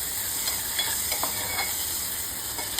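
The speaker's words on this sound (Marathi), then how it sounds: "लसूण चांगला भाजून घेऊया." Garlic fries in hot oil alongside curry leaves, kokum and chilli for Konkani kuldachi pitti, giving an even, close sizzle with faint taps from a spoon.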